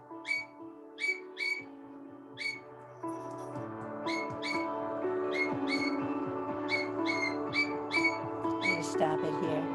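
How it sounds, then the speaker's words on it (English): A pet bird gives repeated shrill, sharp calls in bursts, some single and some in quick pairs, loud and near, over a low background hum in a room with no one speaking. "you actually are hearing my bird buddy yelling, and I hope it's not bothering you."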